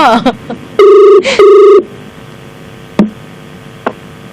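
A telephone rings in two bursts of a bright, steady electronic trill, followed by a few sharp clicks and knocks in a quiet room.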